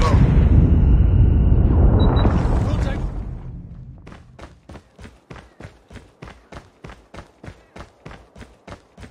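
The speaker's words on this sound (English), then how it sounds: "Friendly Predator missile inbound." A Predator missile explodes in Warzone Mobile with a loud, sustained roaring blast that slowly fades, followed by a steady run of rhythmic footstep-like thuds.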